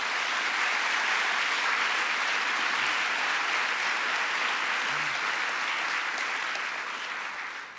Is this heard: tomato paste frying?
no